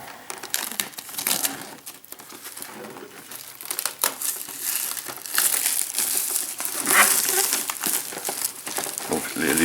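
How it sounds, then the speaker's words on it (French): Cellophane wrap peeled and crumpled off a large X-Wing miniatures game box, with irregular crinkling and crackling bursts close to the microphone and a person talking intermittently. "On va déjà enlever le cello, car il n'y a pas de scotch sur les grandes boîtes, il y a juste le cello."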